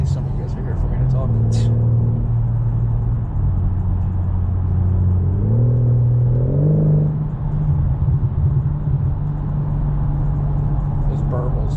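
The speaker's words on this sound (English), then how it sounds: "Those burbles, man, those things, oh my god. I love this car." A BMW M4 Competition engine burbles and drones loudly from inside the car while driving, its low tone rising and falling as it shifts, steady and close throughout.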